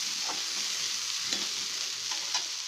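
Drumstick leaves and moong dal fry sizzle steadily in a pan, with a few soft scraping stirs of a spoon over the constant hiss.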